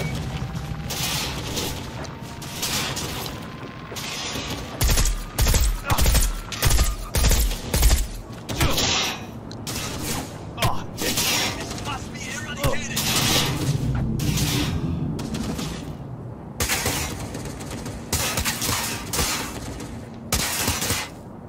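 Gunfire in Cyberpunk during an Arasaka infiltration mission, with repeated bursts of shots and impacts over a busy game soundscape and a speaking voice throughout.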